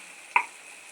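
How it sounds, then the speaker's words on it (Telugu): Cut tomato pieces drop into a pan of frying drumsticks in a single short, soft plop, over a faint, steady sizzle that continues afterwards. "ఇందులో మనం కట్ చేసుకున్న యొక్క టమాటా ముక్కల్ని వేసుకోవాలి."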